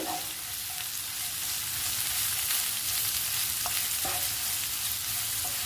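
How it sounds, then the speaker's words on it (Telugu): Ginger garlic paste with coriander and cumin powders fries in oil for beetroot fry, a steady, even sizzle with a couple of faint utensil taps. "అల్లం వెల్లుల్లి పేస్టు, ఈ 2 కూడా వేయించుకోవాలండి ఆయిల్లో."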